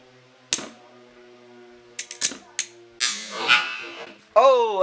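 Beyblade Flash Sagittario 230WD and Fusion Hades AD145SWD spinning tops in a battle: sharp launcher clicks and clacks, a rattling whirr, then a rising metallic whine over a faint steady hum.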